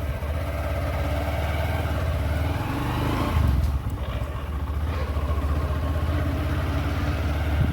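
A motorcycle or scooter engine ticks over at a steady idle, close and fairly loud, with a brief rise in the middle before settling back.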